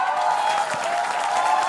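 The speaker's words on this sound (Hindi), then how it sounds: "तालियां बजाइए भाई रविंद्र रैना जी के" A studio audience at a televised Hindi political debate show breaks into steady, dense applause, a brief continuous burst of clapping heard alone.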